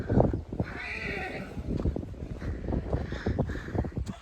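A mare out in the open neighs and whinnies in short repeated bursts, with some clip-clop of hooves and wind buffeting the microphone, fairly distant and moderately faint.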